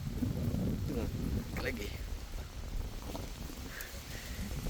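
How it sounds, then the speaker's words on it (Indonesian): Strong wind buffets the microphone at Lake Laut Tawar in Takengon, Central Aceh, a constant low roaring rumble with people talking over it. "Kencang kali anginnya."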